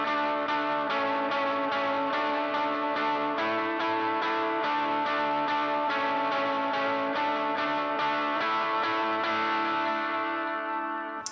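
An electric guitar with effects and distortion plays a harmony line against the melody in the last chorus of a worship song, with dense, steady, sustained chords throughout before a short fade at the end.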